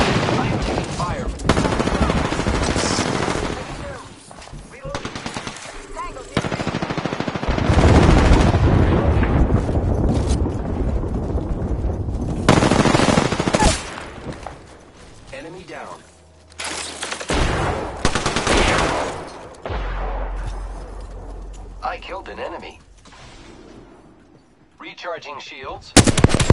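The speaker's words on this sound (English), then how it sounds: "I am taking fire." Rapid bursts of automatic gunfire and explosions in a PlayStation 4 shooter game, loud and dense for most of the stretch with brief pauses and drops between volleys.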